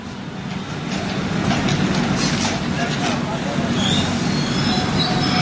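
A train rumbles steadily along the rails with a low rolling roar and faint high squeals, while people talk over it nearby.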